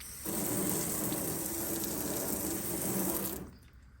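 Water poured in a steady stream onto the painted hood of a Chevy S-10 pickup, a continuous close splashing gush that runs for about three seconds and then stops abruptly.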